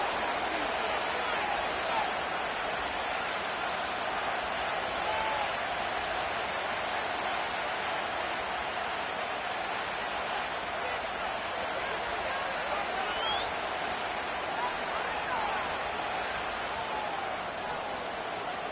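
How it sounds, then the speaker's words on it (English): Stadium crowd at Lambeau Field in Green Bay in an EA Sports football video game: a steady, dense roar of distant cheering that holds level throughout, with no talk over it. "The crowd is definitely ready."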